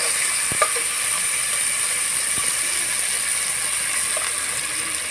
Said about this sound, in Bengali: এখন দিয়ে দেবো পেস্ট কুচি আর টমেটো কুচি দিয়ে একটু সময় নিয়ে ভালোভাবে ভেজে নেব